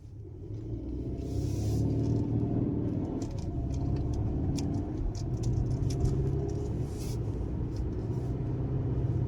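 A 2024 Hyundai Santa Fe Limited SUV drives along, its engine and road noise forming a steady low rumble heard from inside the cabin, with faint rattles and no talking.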